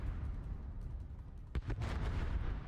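Warship guns in the naval game World of Warships fire a single deep, booming salvo that cuts through a continuous low rumble of battle ambience, fairly close and heavy.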